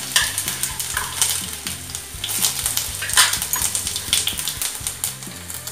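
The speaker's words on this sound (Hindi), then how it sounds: "इसी तेल में मैं कुटी हुई अदरक डाल रही हूँ, साथ में ये जीरा पाउडर," Crushed ginger and cumin powder sizzling in hot oil in a pan while cooking sabudana khichdi, with a steady crackling fry and rhythmic stirring and scraping clatter throughout, close and moderately loud.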